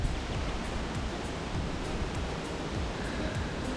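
Broad, steady roar of sea waves washing in on a Turkish coast, with no voices, continuous and fairly close.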